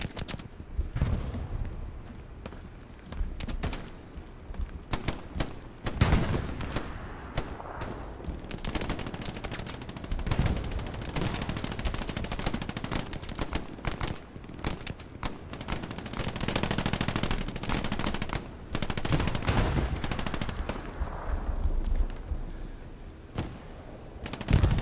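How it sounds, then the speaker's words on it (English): Dense gunfire from the World War II shooter Hell Let Loose at Carentan: sustained rattling volleys and single shots near and far, nearly continuous with heavier bursts throughout. "I'm getting shots in the back all over the place."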